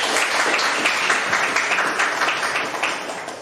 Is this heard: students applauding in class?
yes